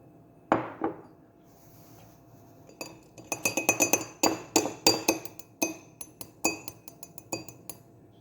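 Glass clinks and taps sharply as anise seeds are spooned into a drinking glass, starting with one loud knock, then a rapid cluster of bright clinks, and a few scattered taps near the end, close and clear with no talk.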